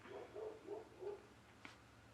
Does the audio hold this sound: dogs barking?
yes